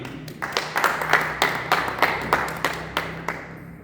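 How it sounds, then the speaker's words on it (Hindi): A church congregation applauds, a steady burst of many hands clapping in a hall, with faint sustained music underneath. "इसके बाद में आपकी भरपूर ताली में बेटे विश्रम को बुलाना चाहूँगा।"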